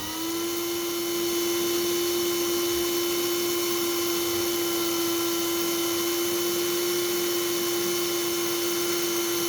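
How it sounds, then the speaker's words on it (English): A power drill whines with a steady, continuous pitch as it bores out the base plate of a diecast model car during restoration, running loud and close throughout with no talk. "Then get your drill. Make a steady go at it."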